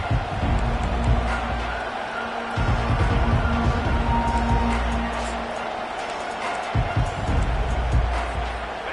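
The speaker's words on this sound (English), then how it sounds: "They challenge this crowd to bring the energy, and I'd say they're doing that." A large football stadium crowd at an Ohio State vs Auburn game roars and cheers steadily, a dense wash of noise from far off, with a voice talking over it.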